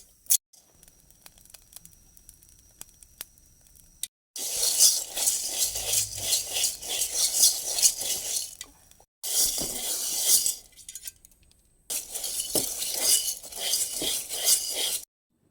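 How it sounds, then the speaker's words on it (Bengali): Rice grains dry-fried in an open pan on a stove, scraped and stirred in several bursts of gritty rattling and clinking, separated by short quiet pauses. "দেন চাউলগুলো ভেজে নিব"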